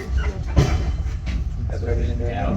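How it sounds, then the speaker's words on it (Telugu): Train starting to move at the station on the Ella to Colombo line, a low rumble with a few knocks and clanks of cars taking up slack, under a busy background. "ఆ train is just starting from here"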